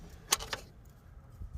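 Distributor cap on a 1961 Ford Falcon that has sat parked for 20 years, snapped loose by hand: two quick sharp metallic clicks close together, followed by quiet handling noise.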